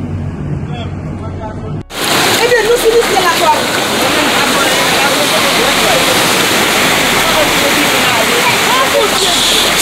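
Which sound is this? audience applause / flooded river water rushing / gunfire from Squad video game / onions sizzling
flooded river water rushing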